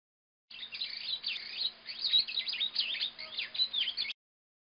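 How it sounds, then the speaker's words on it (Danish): A bird chirps and sings in a lively run of repeated twittering calls, continuous and moderately close for a few seconds, standing alone with no talking over it. "En fugl."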